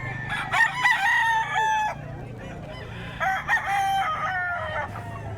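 A young bull stag rooster crows twice at a busy pet market, each call a loud, ragged cock-a-doodle-doo close by, with a short gap between them and a low crowd murmur underneath.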